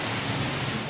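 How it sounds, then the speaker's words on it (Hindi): Steady rain falls as a dense, continuous hiss on surfaces outdoors, loud and unbroken throughout, with no voices. "बारिश हो रही है"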